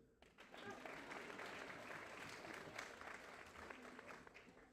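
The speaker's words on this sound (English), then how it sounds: "You can clap again" An orientation audience applauds, steady dense clapping filling the room for several seconds, rising quickly and trailing off softly, heard from some distance.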